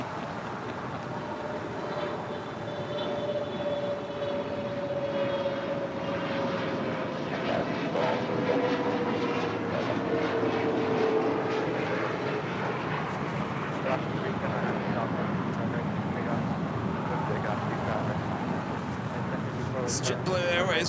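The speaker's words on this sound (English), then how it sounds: "JetBlue Airways flight 2531 coming in from Salt Lake City, and this A320 will be crossing over 25 right, heading to Terminal 5" A JetBlue Airways A320 airliner taxis at LAX, crossing runway 25 right toward Terminal 5. Its steady jet engine whine and rumble hold for the whole stretch at moderate distance, with a slowly falling tone.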